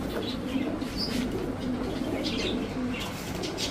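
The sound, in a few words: High Flyer Giribaz pigeons cooing and flapping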